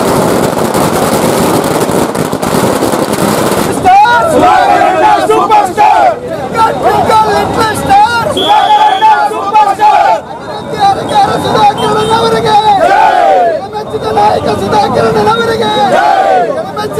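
Fans and BJP workers gathered at a circle shout slogans in support of Sudhakar, a loud and dense mass of chanting voices. A rougher, noisier stretch opens before the rhythmic, rising and falling cries take over.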